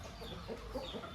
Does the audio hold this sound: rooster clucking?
yes